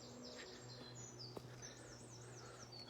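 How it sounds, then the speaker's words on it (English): Birds sing during a quiet morning walk past tall buttercups and a tree. Several soft chirps and whistled calls repeat in a light rhythm, faint and somewhat distant, over a calm outdoor hush. "Birds are beautiful this morning,"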